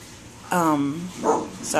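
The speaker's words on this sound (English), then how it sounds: "my dog is gonna bark." A pet dog barks indoors at home while laundry runs nearby: one sharp, loud bark followed by a shorter second bark and the start of a third, with no talk over it.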